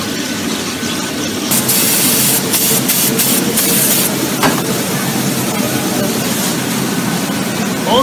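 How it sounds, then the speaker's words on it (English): A yellow line being spray painted onto a model diesel locomotive in a factory, a steady close airbrush hiss in bursts over a constant workshop machinery hum. "And then we spray the yellow line"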